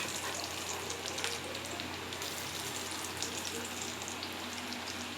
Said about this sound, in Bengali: এগুলোকে আমি আস্তে আস্তে ভেজে নেব